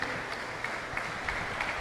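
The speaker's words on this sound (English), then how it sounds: "Nani Alvarado getting the round of applause here from the crowd during this presentation, Katrina, after the women's final." Crowd applause during a medal presentation after a women's pro final at a 2015 handball championship, steady moderate clapping from a gathered audience, slightly distant and even throughout.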